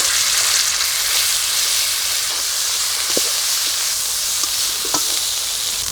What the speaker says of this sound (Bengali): কড়াতে দেবো সাদা তেল, একটু হিং দেবো, বেটে রাখা যে মটরশুঁটি আছে দিয়ে দেবো।